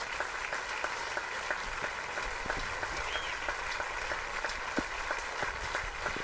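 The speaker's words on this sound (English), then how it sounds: "She's getting a huge applause from the fans in the stands." Softball fans in the ballpark stands at a Netherlands women's national team game give sustained applause for a retiring right-handed pitcher, a soft, distant wash of many clapping hands that continues evenly.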